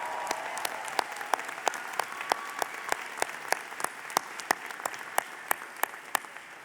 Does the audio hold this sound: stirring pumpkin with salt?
no